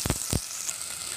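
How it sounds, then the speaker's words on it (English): Mustard seeds and chopped garlic hit hot oil with two sharp spattering bursts, then settle into a continuous, fairly loud sizzle. "Now we can add mustard seeds, 4 pieces of garlic cut into small pieces"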